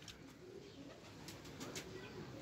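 A pair of Teddy breed pigeons coos softly in low, muffled tones close by, over a faint steady background hum.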